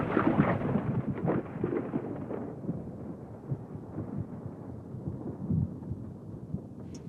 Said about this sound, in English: It's only a rainstorm.